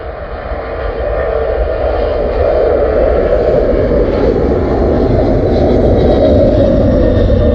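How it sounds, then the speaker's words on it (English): A DHL Airbus A300 cargo plane at Stansted Airport makes a loud, steady jet engine roar that builds slightly and stays powerful throughout. "I think we've got the DHL up next. The Airbus A300."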